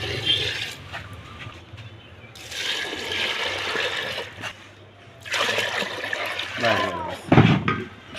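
Water gushes and splashes into a pressure cooker holding lentils, pouring in a few bursts of varying strength as a person talks in between.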